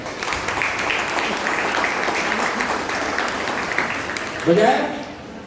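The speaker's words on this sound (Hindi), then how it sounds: "एक जोरदार ताली यीशु मसीह को बजाए।" A church congregation at a Christmas service breaks into loud, steady applause that fills the room for several seconds, and a voice cuts in briefly near the end.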